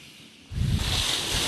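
A wave surges against the rocky coast at Chaeseokgang in Buan, starting as a low rush and swelling into a loud, close, breaking roar after a quiet moment.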